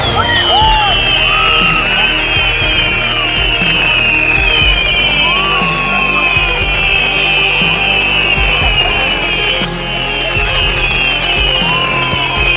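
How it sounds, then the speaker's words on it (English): Fireworks bursting over a park during a celebration, with repeated pops and crackles and whistling rising trails, while a crowd cheers and murmurs underneath. "suddenly, first fireworks lit up the night"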